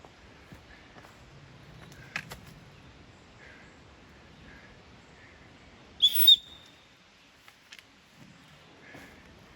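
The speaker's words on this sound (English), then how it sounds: "That whistle normally does the trick." A sharp, high whistle blast, blown to scare off a bear on a Great Smoky Mountains hike, sounds once amid quiet outdoor surroundings, with faint footsteps and distant bird-like chirps.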